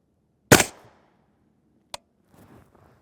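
A single sharp gunshot from an 8.6 Blackout pistol firing a solid copper round cracks nearby and decays quickly, followed by a faint click and soft handling noises.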